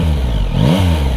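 A Yamaha Tracer 9 GT motorcycle, 2024 model, revs its engine through a hidden exhaust, giving a close, loud, throaty burst that rises and falls once within a steady idle rumble.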